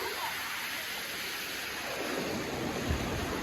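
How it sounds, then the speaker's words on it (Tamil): Flood water pours over sandbags during a flood in Kumarasamypuram, Mullaitivu, a steady broadband rushing roar, fairly near and constant throughout with no talk. "அந்த மண்மூடையும் வந்து மேலால் பாயுது"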